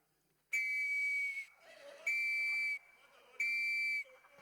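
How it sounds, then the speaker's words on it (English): Three long, loud whistle blasts in a legislative Senate chamber, each about a second long and steady in pitch, separated by short pauses with faint room murmur. "I am blowing the whistle for the second time"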